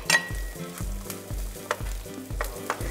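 Chopped garlic and onions frying in a pan for bolognese, a bright sizzle under rhythmic stirring with regular low thumps and scrapes of a spoon against the pan, close and steady.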